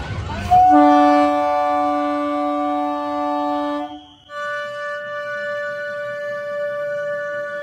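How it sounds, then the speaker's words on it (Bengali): A loud, sustained train horn blares for several seconds from a stopped train during a Ram Navami procession in Barasat, briefly cuts out, then resumes steadily with a rumbling background. "ট্রেন দাঁড়িয়ে গেছে।"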